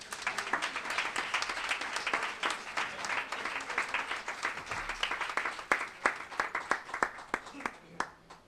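An audience at a Spanish book presentation claps steadily, the applause fairly close and moderately loud before thinning into scattered individual claps near the end.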